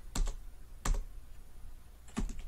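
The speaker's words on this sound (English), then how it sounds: "Now as I am typing," Three sparse, soft keystrokes on a computer keyboard tap out at uneven intervals, faint and close against a quiet background.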